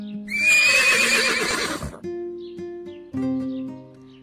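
A horse gives a loud, shrill whinny close by that wavers and trails off, followed by a few soft musical notes after it stops.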